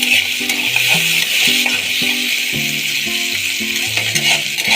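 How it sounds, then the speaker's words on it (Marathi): Tomato and onion sauté in a pan for a dried fish chutney, giving a steady sizzling hiss throughout with light stirring, while a stepped melodic tune plays underneath. "टोमॅटो आणि कांदा चांगला परतून घ्यायचा।"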